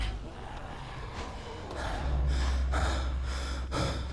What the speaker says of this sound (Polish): a potwory aż sapią